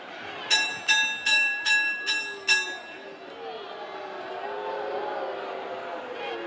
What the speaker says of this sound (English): The bell has sounded